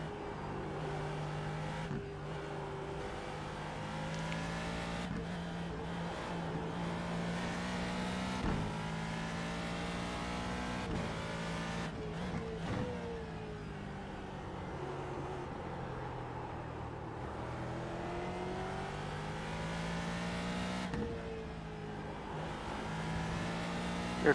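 Ford GT2 race car engine in the iRacing sim at Spa, a loud continuous roar rising through the gears with sharp shifts and drops, steady throughout with no voices.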